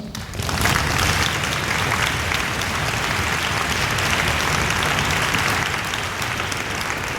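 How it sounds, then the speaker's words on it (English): Loud, sustained audience applause for a talented student violinist standing at a school orchestra concert, starting abruptly and holding a dense, even roar of clapping throughout. "let's give him an applause"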